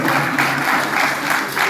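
Audience applause at a devotional gathering in Rohini Sector 3, a dense, steady clapping from a crowd that pulses in waves throughout, with no talking.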